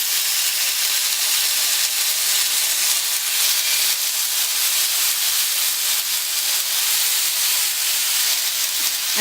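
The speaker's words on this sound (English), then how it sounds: "Now the pan is hot and now we will place skewers onto it." Chicken tikka skewers sizzle in hot oil on a tawa pan over a medium gas flame, giving a steady, loud, close hiss that runs unbroken throughout with no talking.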